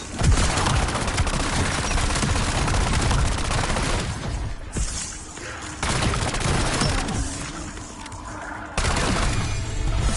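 Sustained loud gunfire while shooting zombies in Call of Duty Black Ops 7 Zombies, dense continuous shots with short breaks between bursts and no voices.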